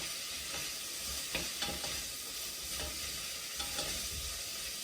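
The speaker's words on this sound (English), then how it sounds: "sweating the vegetables down nicely in the garlic" Chopped vegetables sweating with garlic in a frying pan over medium heat, a steady soft sizzle with occasional stirring scrapes, close and even, no talking.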